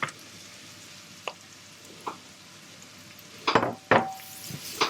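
Courgette and cumin frying in a pan give a steady faint sizzle, broken by a few sharp scrapes and clatters of a spoon stirring against the pan, louder near the end.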